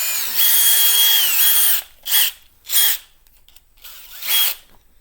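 A power drill whines loudly at high speed, then gives a few short bursts with pauses between them.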